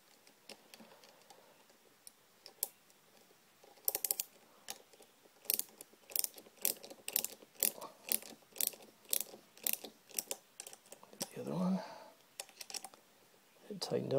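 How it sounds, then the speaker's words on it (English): Ratchet being cranked to tighten electric fence wire on a barn partition, giving a run of sharp, evenly spaced clicks close by, with a brief scraping rustle near the end and quiet background. "if I could get my ratchet set up right"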